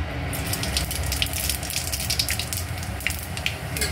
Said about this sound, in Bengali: তেলের মধ্যে আমি একটা শুকনো লঙ্কা আর একটু পাঁচ ফোড়ন দিয়ে দেবো।